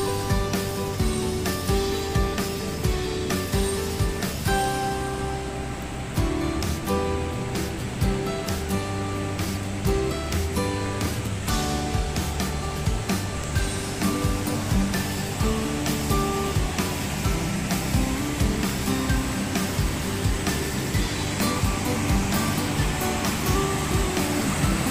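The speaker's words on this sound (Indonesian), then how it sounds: "tuh bawahnya sungai, arusnya lumayan deras" A fast-flowing river rushes beneath a wooden bridge at Baturaden, a loud, continuous broadband roar of water that runs steadily throughout with no voices.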